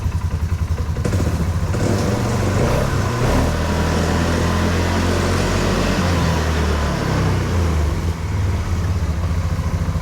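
A 2022 Polaris Sportsman 570 ATV with EBS, clutch vibration and binding issues, runs in gear: a steady, loud, close engine drone with a low rumbling pulse and some rattle, holding fairly even throughout without talk.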